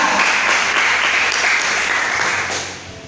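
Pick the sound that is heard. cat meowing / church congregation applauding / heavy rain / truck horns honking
church congregation applauding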